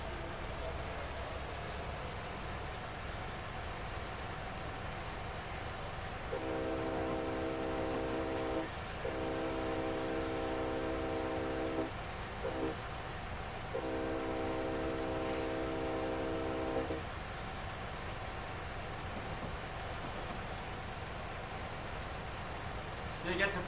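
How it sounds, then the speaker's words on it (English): Locomotive in a train simulator on Sherman Hill, a low steady rumble under which the horn sounds in several long blasts, with a faint engine drone throughout. "I'm going to go ahead and increase the throttle now by a little bit"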